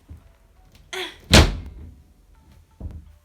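A bedroom door is forced shut, landing as one loud close slam after a softer knock against the frame, with another dull thud following a moment later in a quiet room.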